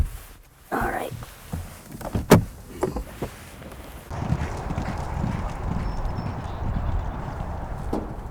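Racehorses galloping through a breeze workout, hooves clip-clopping in a quick rhythm at middle distance, followed by a steady rush of wind and ground noise with a few faint voices.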